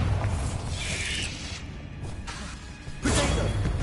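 Bombarda exploding spell effect in a Harry Potter wizard video game: rushing whooshes and crashing booms swell and fade, with a fresh loud impact near the end.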